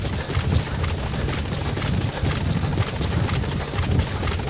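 Steady, close helicopter rotor thrum with dense engine roar from Metal Gear Solid V as the extraction chopper arrives, loud and continuous without speech.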